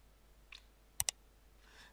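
Keyboard keys pressed while entering a value in AutoCAD: a faint tap, then two sharp, close clicks in quick succession, with a soft rustle near the end, heard alone in a quiet room.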